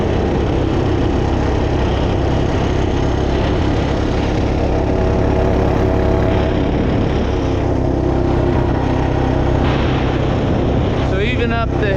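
A rebuilt Honda TRX250TE ATV engine runs loudly and steadily up close, its continuous drone holding even for the whole stretch while the rider pulls uphill in gear.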